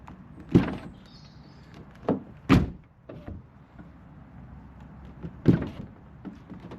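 A Peugeot RCZ door opens and shuts with sharp, close clunks and latch thuds, while the electric window motor whirs briefly, dropping and raising the glass between the door sounds.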